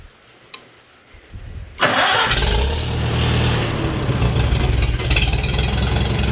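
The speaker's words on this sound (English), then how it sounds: "Okay, your tractor is running and you're ready to move." An antique tractor engine cranks and catches, then settles into a loud, close, rumbling idle. A few quiet clicks come before it starts.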